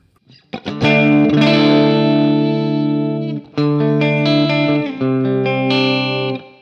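An electric guitar is strummed through heavy effects from a NUX MG-30 pedalboard, with distortion and chorus shimmer, ringing out in two long chords with a brief break between them.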